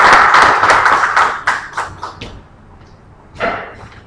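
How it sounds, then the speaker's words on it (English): An audience at a public lecture applauds in a quick run of claps that thins out and fades, with a few scattered claps near the end and no talk. "A round of applause."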